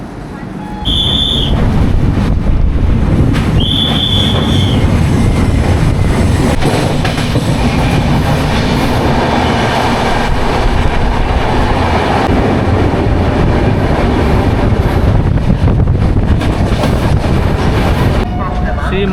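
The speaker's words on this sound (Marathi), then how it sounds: "इंडियन आर्मीची ट्रेन आहे वाटते, स्पेशल पूर्ण ग्रीन कलरची आहे." A special all-green Indian Army train running on rails near Panipat Junction, a loud steady rumble and clatter of wheels close by, with brief high squeals near the start and voices faintly mixed in.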